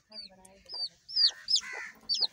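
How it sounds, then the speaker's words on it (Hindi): A hen clucks and squawks nearby on a poultry farm with newly hatched chicks, a short burst of sharp calls, a few quick notes separated by brief pauses. "मुर्गी मेरी तरफ आ रही है, ठीक है।"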